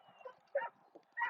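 A retriever whines in short, high-pitched bursts during a hunt test, with a few soft whimpers and two louder yelps close by, rising and falling over a second or so.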